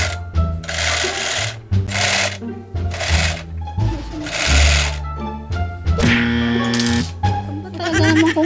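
A portable home edging sewing machine runs loudly in short bursts of a few seconds each, its motor whirring and stopping repeatedly with brief pauses between runs.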